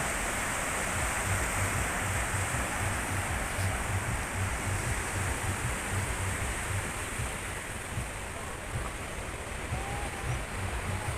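Sea waves roll in along Karwar beach, a continuous broad wash of surf with gentle swells and wind, steady and fairly loud with no voices.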